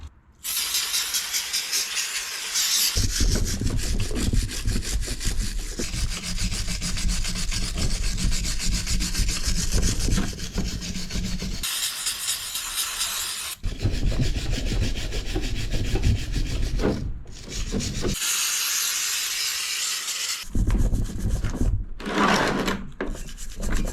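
A stiff brush scrubs a Subaru WRX brake caliper during a rebuild, a loud, steady rasping rub that runs continuously with a few short pauses and strokes toward the end.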